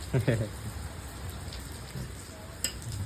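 Steady unseasonal rain patters outside in a village in Botad, Gujarat, with a brief voice near the start and a faint sharp sound late on.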